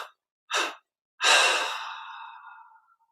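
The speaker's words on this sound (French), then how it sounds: "Maintenant, on inspire profondément." Slow, deep breaths during a guided meditation: a short exhale, a pause, then a long, loud exhalation that fades gradually, close and with no talking.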